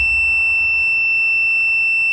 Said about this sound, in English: it does make a beep on here because it's detecting resistance